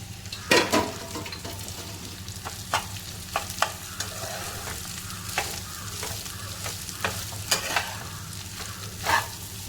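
Leftover rice stir-fried with chili and masala in a hot pan, a steady sizzle under repeated sharp scrapes of a spoon against the pan, close by, with a faint crow calling far off.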